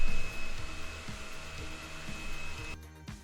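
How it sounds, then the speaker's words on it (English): A hair dryer runs with a steady, close airy roar and a thin high whine, then cuts out near the end. "Maybe I should turn on the hair dryer."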